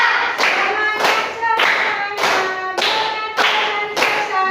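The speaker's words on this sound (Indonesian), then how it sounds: "Tepuk tangan buat kalian" Rhythmic group hand clapping from a class of third-grade pupils, loud and close, in bursts of quick claps separated by short pauses, with faint voices mixed in.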